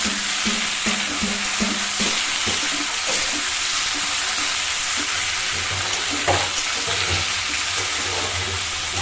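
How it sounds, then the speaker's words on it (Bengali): Food fries in a pan after salt goes in, a steady broad sizzle with soft stirring scrapes and a low background hum, close and continuous with no talking. "নুন দিয়ে দিলাম এইবারে ভালো করে ভেজে ভেজে করে নিতে হবে"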